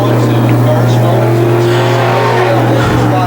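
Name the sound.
Pro Stock race cars racing at Can-Am Speedway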